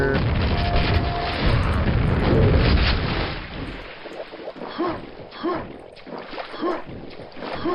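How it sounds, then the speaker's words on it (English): Grenade launcher explosions go off underwater in the video game Quake, giving a loud, muffled rumbling boom that holds for a few seconds and then fades into bubbling, gurgling water sounds with softer pulses. "Grenade launcher."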